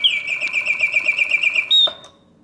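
A 1967 Reuge double singing bird cage mechanism whistles a bright, rapid warbling trill that rises to a high held note near the end, then stops abruptly into quiet mechanical clicks.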